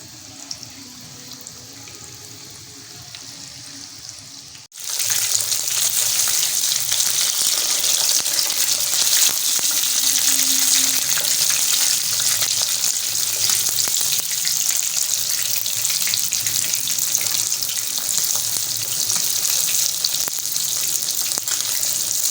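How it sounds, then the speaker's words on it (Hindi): Finger fish coated in breadcrumbs bursts into loud, continuous sizzling in a hot frying pan after a quiet opening, and the crackle holds steady close by. "ये हो रही है हमारी मछली फ्राई"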